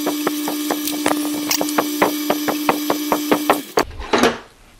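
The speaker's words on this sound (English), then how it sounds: "I'm going to slow the lathe down a little bit and feed this in" A metal lathe runs at a slowed speed, steady hum and regular ticking beats, while a part is fed in by sliding the tailstock for a stationary engine cylinder; the machine stops near the end, leaving a faint scrape.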